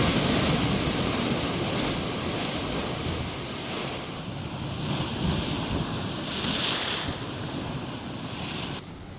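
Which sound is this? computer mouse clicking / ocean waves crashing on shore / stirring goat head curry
ocean waves crashing on shore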